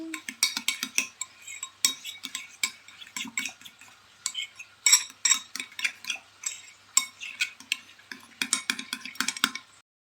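A utensil scrapes and clinks against a cast-iron frying pan as ketchup sauce is stirred, an irregular, close run of metallic taps and scrapes lasting several seconds, with no voices.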